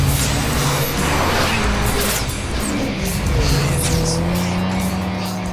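Fast car engine roar in a street-racing film scene, a sustained loud rush of engine and road noise with faint tire and whoosh textures, steady throughout with no speech.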